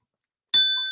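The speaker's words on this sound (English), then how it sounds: "That's the bell of purpose. I ring it on purpose." A hand bell rung once to open a morning show, giving a sharp, bright ding that starts abruptly and rings on with a slowly fading metallic tone, alone with no talk.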